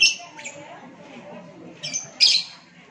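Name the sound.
bird squawking in a cage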